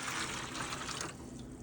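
Hot tap water runs steadily from a faucet into a sink or basin while crafting silverware ornaments, a continuous close splashing rush with no talk.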